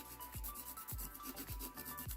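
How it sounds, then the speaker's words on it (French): A nail file rasps along the sides of a gel nail in four even back-and-forth strokes, close and quiet with no talking. "je lime bien sur les côtés"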